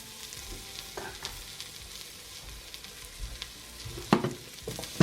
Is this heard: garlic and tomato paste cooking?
yes